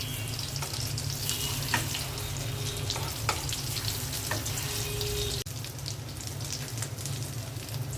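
Beef and potato chops sizzle steadily in hot oil in a pan, a continuous loud crackling fry with faint occasional clicks, heard alone without talk.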